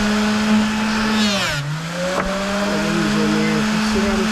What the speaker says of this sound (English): here we are on the miniature bench grinder